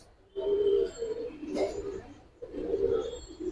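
Fighter pigeons coo in a loft in two low, throaty bursts, close by, with a faint chirp between them.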